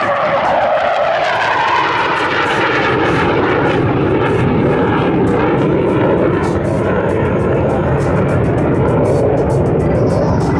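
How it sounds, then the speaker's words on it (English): A-4 Skyhawk delta-wing jet roaring past at an air show demonstration at Lemoore NAS, a loud continuous engine rush that swells and shifts in tone as the aircraft passes, with no pause. "Take a look at the beautiful delta wing shape of the A-4 Skyhawk."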